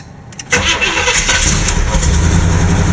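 A car engine cranks and catches with a quick throttle blip, then settles into a loud, steady close idle.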